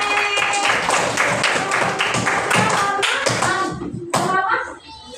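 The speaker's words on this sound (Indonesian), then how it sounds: "beri tepuk tangan untuk kelompoknya" Classroom of students clapping for a group during a civics lesson on social norms, a sustained burst of many hands clapping loudly and close, tapering off near the end with a few scattered claps.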